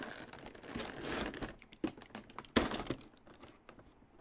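A blade slices through tape on a cardboard board game box for Ghostbusters the Board Game II, short scratchy rips and crackles with faint sharp clicks, close and quiet.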